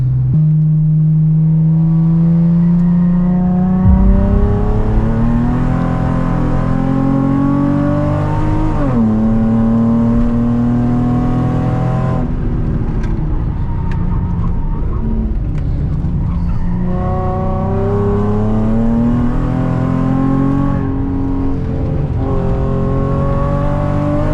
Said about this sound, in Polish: W ogóle jak to jest głośno w tym samochodzie.